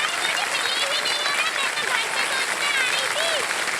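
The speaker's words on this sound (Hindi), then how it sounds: "और देखिए सब खड़े होकर के ताली बजा रहे हैं आपके लिए।" A studio audience on a Hindi TV quiz show gives a standing ovation, with dense, steady applause that fills the whole stretch and a voice faintly heard beneath it.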